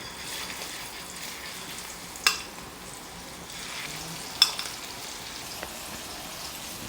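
Prawns fry in hot oil with a soft, even bubbling sizzle, broken by a couple of sharp clinks and knocks from a utensil, with no voices.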